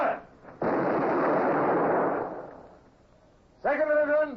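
Ship's cannons fire a broadside in a naval radio drama, a loud sustained blast of rumbling noise that decays into quiet, then a voice starts speaking near the end.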